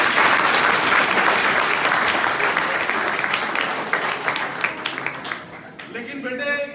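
Schoolchildren clap loudly in a dense burst at a road safety month event, the sound holding strong, then thinning and trailing off near the end.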